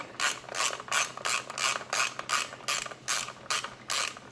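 A hand ratchet snugs down a bolt on a Harley M8 air cleaner, giving about ten quick, evenly paced clicking strokes close up with no talking.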